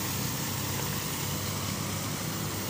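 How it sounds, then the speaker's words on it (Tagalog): Motorcycle engines drone through floodwater on Quirino Street in Malate, Manila, a loud steady rumbling wash with no talk over it. "tingnan nyo mga motor na yan."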